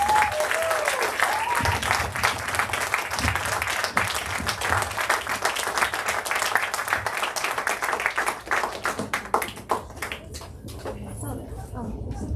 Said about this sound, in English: No, it's a clap.